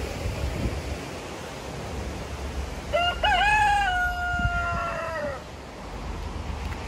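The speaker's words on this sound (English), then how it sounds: "Where's that cockerel?" A single loud crow from a large cockerel rings out nearby in Cornwall, a long drawn-out call lasting over a second against steady outdoor background noise.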